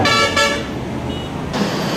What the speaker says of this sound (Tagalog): Kaliwat kanan, may bumubusina.